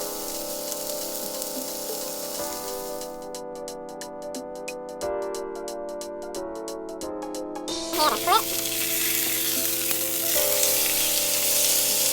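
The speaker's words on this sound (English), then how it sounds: "I'm going to sear this chuck steak, and chuck roast" Chuck roast sears in a hot pan with a loud, steady sizzle that runs for the whole stretch, swelling briefly midway, with speech and a voice faintly in the background.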